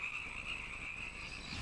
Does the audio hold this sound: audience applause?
no